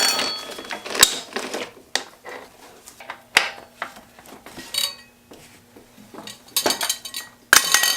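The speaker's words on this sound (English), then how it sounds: "and pull the chain" A dirt bike chain being pulled through the sprockets on a KTM during a chain and sprocket replacement gives irregular metallic clinks and rattles. Scattered sharp ticks are separated by short pauses, with a few denser bursts near the end.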